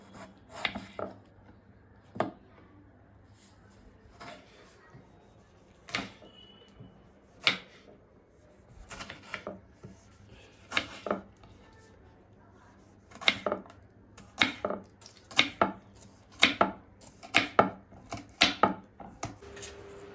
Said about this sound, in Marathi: त्याचप्रमाणे टोमॅटो पण कापून घ्यायचा आहे